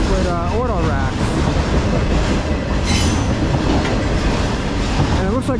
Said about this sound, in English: CSX Manifests with auto racks.